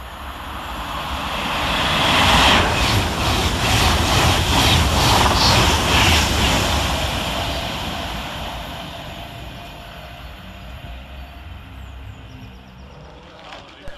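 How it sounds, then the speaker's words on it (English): Avanti West Coast electric train 390011 races through Lockerbie station on a Glasgow Central to London Euston service, a loud roar building over a couple of seconds, holding steady with rhythmic wheel beats, then fading away into the distance. "Next to race its way through the station is 390011, working 1 Mike 11 for Avanti West Coast"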